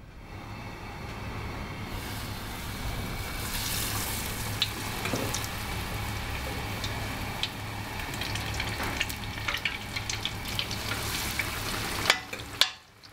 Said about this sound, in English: Okay, now we'll go into the fryer.